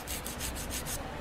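A nail file works a bare, raw fingernail in quick, soft rasping strokes, about six rhythmic scrapes in a row, close and quiet, before the filing stops.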